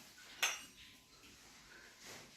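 Dishes being wiped and put away in a home kitchen, with one sharp clink of crockery near the start and a softer rattle of handled dishware later, all faint and close.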